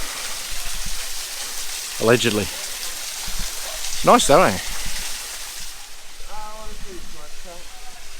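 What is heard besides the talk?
waterfall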